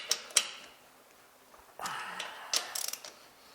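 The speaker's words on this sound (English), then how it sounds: "3/8 ratchet." A 3/8 ratchet working bolts on a John Deere 710 tractor, with short bursts of rapid clicking and metallic clinks between pauses, close up and fairly loud.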